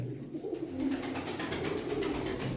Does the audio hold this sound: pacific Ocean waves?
no